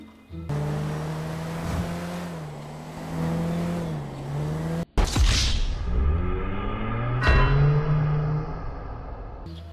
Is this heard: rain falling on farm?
no